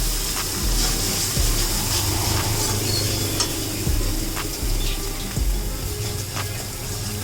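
Fried spice paste for a fish curry, with salt and turmeric added, is stirred in a sizzling pan. A steady frying hiss runs throughout, with scraping strokes of the spoon at irregular intervals, close and clear.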